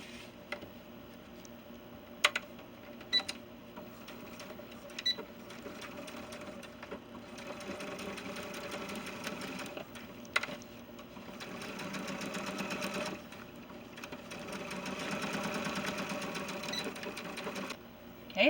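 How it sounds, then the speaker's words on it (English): Sewing machine stitching a quarter-inch seam on 70cm male doll pants, a soft steady whir with small ticks, running in stretches that swell and ease, heard close and fairly faint. "I'm just going to sew a 1/4 inch seam and then serge that"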